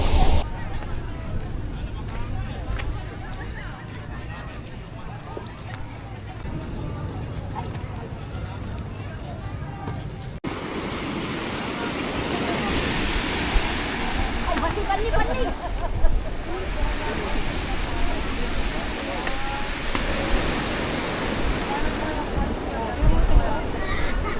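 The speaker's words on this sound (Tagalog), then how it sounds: "Ganyan lakas ng alon oh, grabe." Strong ocean waves crash continuously onto the shore at sunset, a loud, rushing surf that swells and breaks, with people talking and exclaiming over the roar.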